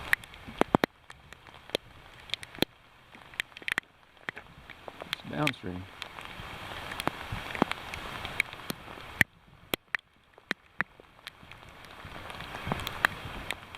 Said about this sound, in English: Rain's still here.